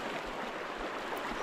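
Strong current rushing through a deep creek that keeps flooding: a steady broadband wash of moving water, close and continuous, with no voices over it.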